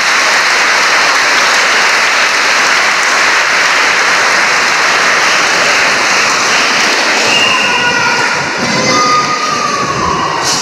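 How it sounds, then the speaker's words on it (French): Loud, sustained applause from a church congregation at an Easter Mass celebrating the Lord's resurrection, dense and steady throughout, with a few high tones near the end. "Est-ce qu'on peut applaudir pour le Seigneur?"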